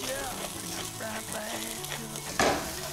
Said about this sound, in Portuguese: a gente vai então trabalhando na frigideira, salteando os aspargos